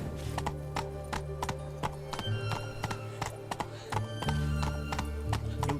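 Roach, a horse in The Witcher 3, galloping with quick, regular clip-clop hoofbeats close by, plus a neigh and a low game hum underneath.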